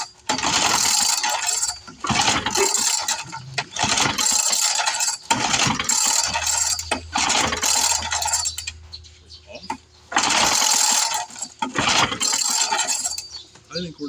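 Repeated pull-cord tugs on a 1970 Lawn-Boy Buttercup lawn mower engine, several loud ratcheting rope pulls in bursts with brief mechanical whirring between them, close by and without catching.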